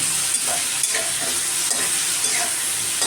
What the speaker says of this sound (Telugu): మష్రూము క్యాప్సికము వేయించాలన్నమాట నూనెలో